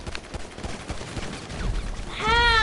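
Rapid pistol shots in a video game, a quick run of sharp cracks in steady succession, followed by a brief tonal game sound at the end.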